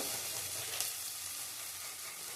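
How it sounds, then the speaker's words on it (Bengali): Garlic frying in a pan gives a steady, close sizzle with dense crackling, continuous and unbroken for the whole moment with no voices. "দেখো রসুনগুলি ভাজা হয়ে গেছে।"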